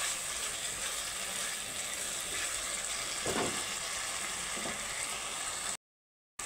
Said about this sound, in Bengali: এখন আমি দিয়ে দিব পরিমাণ মতো জল।